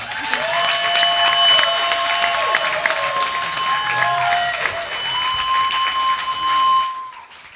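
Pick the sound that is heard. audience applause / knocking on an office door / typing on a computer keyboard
audience applause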